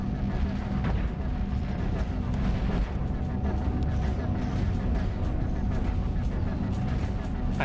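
Ship weapons fire steadily in the space-combat game Cosmoteer, a dense, continuous rumble of shots and impacts at a constant level throughout, with a faint engine-like hum underneath.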